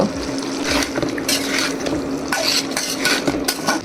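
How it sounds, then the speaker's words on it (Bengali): Moong dal cooks in a pot as the ingredients are stirred together, with wet scraping, sloshing and bubbling under a continuous sizzle and occasional utensil knocks. "এখন সবগুলো একসাথে একটু ভালো করে নেড়ে নিব"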